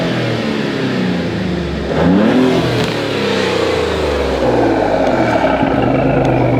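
A 2025 Maserati GranCabrio Trofeo V6 with a custom exhaust and no muffler revs loudly up close, the engine note sweeping upward around the two-second mark and then holding a throaty, steady drone.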